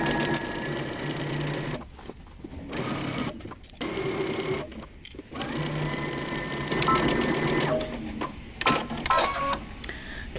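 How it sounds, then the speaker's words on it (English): A sewing machine stitches a dress seam at a 5/8 inch allowance with a brief backstitch, running in several loud bursts of rapid mechanical whirring separated by short pauses. "you're going to sew and backstitch just a bit"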